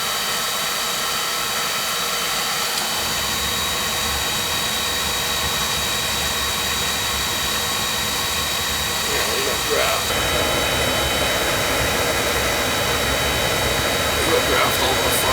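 A Peerless oil boiler burner fires with a steady, loud roaring rumble that holds constant throughout, with a few faint clicks on top.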